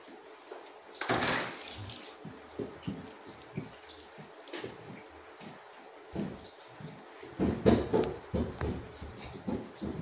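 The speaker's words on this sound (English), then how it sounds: "They are in liquid form, so I'll just pour them in directly." Liquid items poured directly into a container, a splashing gush at the start followed by scattered drips and trickles, with a second, louder burst of pouring near the end.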